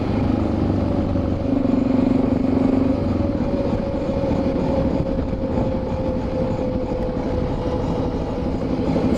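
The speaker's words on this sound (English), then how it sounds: "train wheels on a bit of rail" Train wheels rolling on a stretch of rail in Britain, a steady droning rumble with a sustained tonal whine, continuous and fairly loud throughout with no voices.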